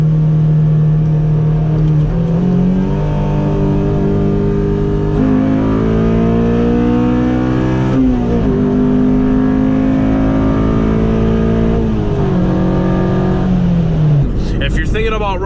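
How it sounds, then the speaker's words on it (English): A tuned Honda Civic Si on the road, its engine droning loud and steady from inside the cabin, pitch climbing through repeated rising pulls with brief drops between gear changes. "The car feels so smooth."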